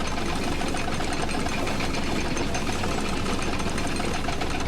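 The Bucket Destroyer machine running in the video game The Stanley Parable Ultra Deluxe, a steady, dense mechanical whirring rumble with a rattling, motor-like texture, loud and unbroken throughout with no voices.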